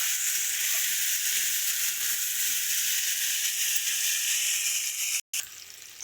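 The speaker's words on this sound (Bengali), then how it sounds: "দিয়ে আলুটা ভালো করে একটু ভেজে নেব।" Potatoes fry in a pan for a Bengali fish and potato curry, giving a loud, steady hiss of sizzling oil that runs almost unbroken, with one very brief dropout near the end.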